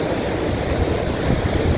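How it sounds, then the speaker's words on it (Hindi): Waterfall at Mahudand Lake in the Swat Valley, a dense, continuous roar of falling and rushing water, loud and close, steady throughout with a low rumbling body and no voices. "और ये सामने आबशार,"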